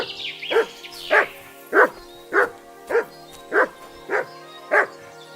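A dog barks in the video game Kingdom Come Deliverance 2, eight evenly spaced, close and loud barks with a faint whine at the start.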